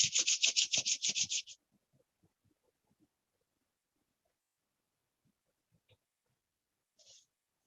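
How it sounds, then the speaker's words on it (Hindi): Both hands rubbed briskly together in a quiet room, a rapid run of close, dry swishing strokes lasting about a second and a half, then near silence with a couple of faint later rustles. "दोनों हाथों को रब करें।"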